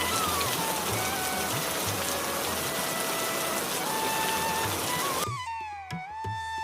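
Steady heavy rain pours down continuously, a dense even hiss that cuts off abruptly near the end, leaving a faint tonal background.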